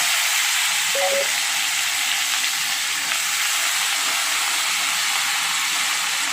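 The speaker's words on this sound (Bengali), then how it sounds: "এবারে কেটে রাখা একটা টমেটো আর পেঁয়াজ আর চার পাঁচটা কাঁচা লঙ্কা একসঙ্গেই আমি তেলের উপরে তুলে দিচ্ছি" Chopped tomato, onion and four or five green chillies hit hot oil with cumin, giving a loud, steady, broadband sizzle and hiss that runs unbroken throughout with no voice.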